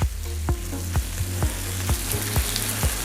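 Keto cinnamon chaffle batter sizzles in a hot waffle iron, a steady close frying hiss broken by regular soft thumps about every half second, with no talking.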